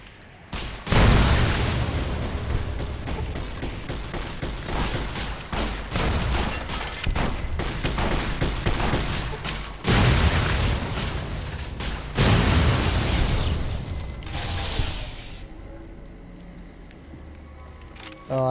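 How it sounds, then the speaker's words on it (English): A warhead detonates in Fallout New Vegas, giving a loud, sustained roar of rumbling blasts and crackling bursts. Fresh surges hit at about one, ten and twelve seconds before the roar fades out near the end. "Just point at a warhead, hold down the trigger, and watch the explosion."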